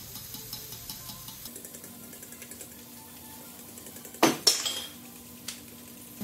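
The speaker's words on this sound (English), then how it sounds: "And that would be Legos falling over from the wind." Lego pieces topple over in the wind, giving a sudden loud plastic clatter midway, preceded by faint light clinks and followed by a smaller rattle, no speech.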